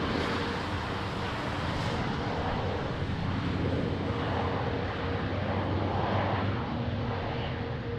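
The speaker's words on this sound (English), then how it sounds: "Oh, that was a Cessna Citation 3." A Cessna Citation III jet at Lisbon Airport produces a steady, broad engine roar that holds at even strength throughout, blended with wind and rain noise.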